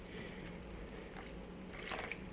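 Water pours into a pan on the stove while Salisbury steak cooks, making a soft, steady splashing with a few brighter drips near the end.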